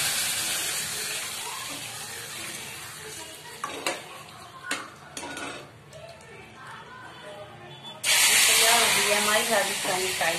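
Hot tadka of mustard seeds and red chilli powder hits a pot of kadhi, giving a steady hiss with clinks of utensils, then a louder burst of sizzling near the end; a voice speaks over it.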